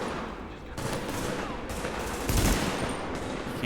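Gunfire in the video game The Division, a dense, continuous volley of shots with several louder bursts over steady background noise.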